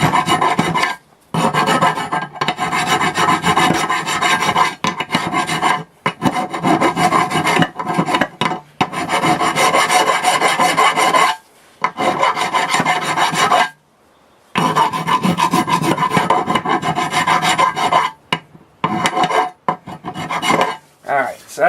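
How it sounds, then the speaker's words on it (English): An aggressive file rasps hard against a brake caliper from a 2001 Buick LeSabre Custom, long steady strokes repeated in bursts with brief pauses, loud and close. "So you want to kind of go after it with an aggressive file."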